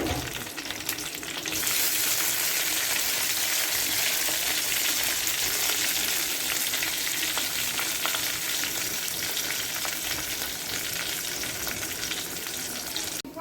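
A tempering for saaru curry sizzles hard in hot oil, jumping to a loud, dense crackle after a second and holding steady and close throughout.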